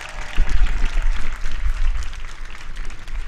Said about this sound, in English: Muchibi deserves another round of applause.